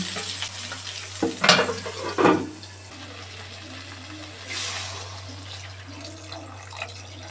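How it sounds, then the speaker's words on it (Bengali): Fish curry gravy coming to a boil in a pan: soft continuous bubbling sizzle with a few louder stirring scrapes early on, close, with a low steady hum underneath and no talking. "ঝোলটা ফুটে উঠুক"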